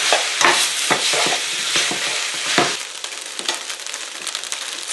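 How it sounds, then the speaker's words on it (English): Sweet potato vermicelli with bacon stir-fries in a pan over high heat, a loud close sizzle under quick repeated scraping and tossing strokes of a utensil, with no voices. "stir fry for about 2 minutes to 3 minutes"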